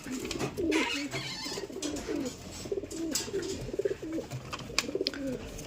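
Pigeons coo steadily in a loose repeating rhythm throughout, a newly acquired breeding pair kept in a home loft, close and moderately loud with faint background noise.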